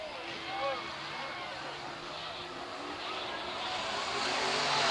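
Race cars at Southern Oregon Speedway spinning out on the track, a steady roar of engines with rising intensity toward the end, heard under a continuous wash of crowd and track noise.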